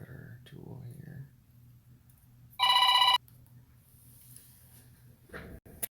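A telephone rings in a single loud electronic burst of about half a second, standing out sharply over a quiet room where someone speaks briefly before it and faint handling noises follow.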